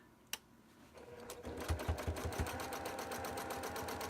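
A sewing machine starts after a click, then runs in a fast, even rhythmic stitching patter, close and moderately loud, with no talking.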